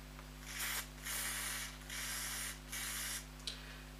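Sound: lubricant spray on airsoft pistol

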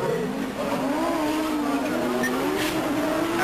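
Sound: Audi Quattro rallycross car racing

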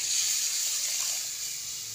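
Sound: pouring tamarind water into sardine fish curry

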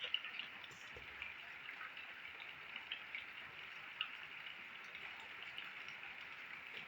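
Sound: rain

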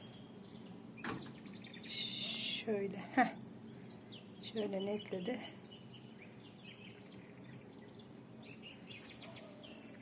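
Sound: birds chirping at sunset

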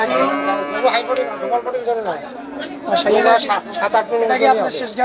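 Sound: Holstein dairy cow mooing at a cattle market

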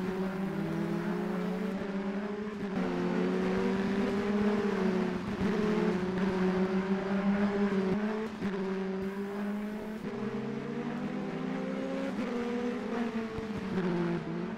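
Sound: Formule Renault 2.0 race cars at Val-de-Vienne

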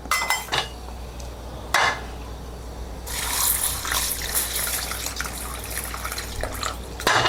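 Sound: washing two kinds of lentils (dal) in water

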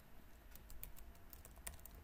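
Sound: typing a command on a computer keyboard

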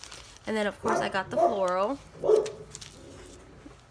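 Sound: dog barking

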